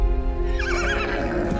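A horse, a mustang, lets out a loud, close, quavering neigh over a low rumbling background, with faint hoofbeats mixed in.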